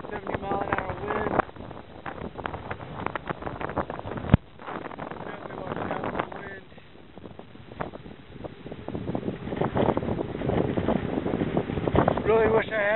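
Strong storm winds buffet the microphone outdoors, roaring in heavy, gusting bursts with a brief lull in the middle, while a person talks over the noise.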